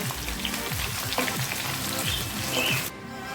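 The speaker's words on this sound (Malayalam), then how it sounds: "ഇനി ഇത് നല്ലപോലെ ഒന്ന് വഴറ്റിയെടുക്കണം." Shallots sautéing in a pan for Kerala-style beef curry, a dense close sizzle like rain with repeated spatula scrapes, cutting off abruptly just before the end.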